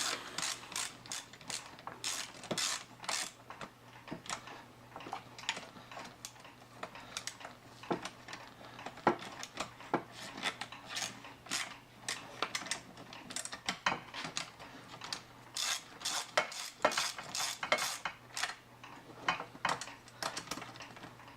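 A ratchet tightens seat bolts on a 2001 Chevy 2500HD pickup, giving steady, close, fast clicking strokes in repeated bursts with no talking.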